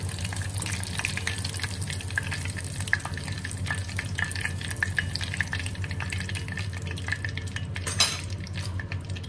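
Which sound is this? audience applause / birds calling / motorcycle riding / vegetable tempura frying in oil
vegetable tempura frying in oil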